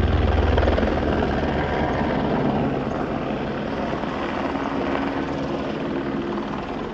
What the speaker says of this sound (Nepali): यहाँ अघि यहाँ हेलि चाहिँ बसिसकेको छ